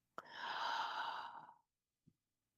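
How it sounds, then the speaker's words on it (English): One breathy exhale follows a sharp intake, a soft airy sigh lasting over a second, then a faint small click, close and alone in quiet. "Take a deep breath in and exhale."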